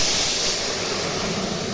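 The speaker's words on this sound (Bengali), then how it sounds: "আর একটু সর্ষে ফোড়ন দিচ্ছি" Mustard seeds and a dried red chilli hit hot oil for a sour dal tempering, giving a loud, continuous, close-up sizzling hiss with no speech.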